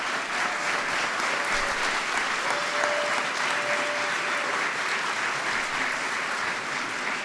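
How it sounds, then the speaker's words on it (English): A large crowd at a White House ceremony honoring the 2015 World Series champion Kansas City Royals claps in sustained, dense applause that holds steady throughout. "Give him a big round of applause."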